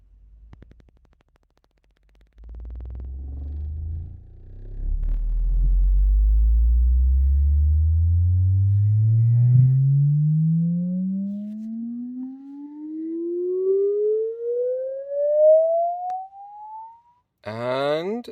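A test tone from a pair of 18-inch subwoofers mounted in an infinite baffle, rising steadily from a deep rumble to a higher hum over many seconds. The sweep is loud and continuous, and a short burst of other sound comes near the end.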